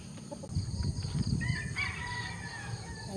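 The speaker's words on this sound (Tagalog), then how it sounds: "maririnig mo yung mga kakak ng mga manok, saka yung pabo" At an army campsite in the morning, a rooster crows in the middle distance with a rising, drawn-out call that trails off, over soft background rustling and low murmuring.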